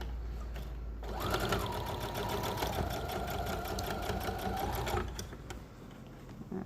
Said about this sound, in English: So this one you're going to sew down just past your wire area, because you don't really want to sew over the wire.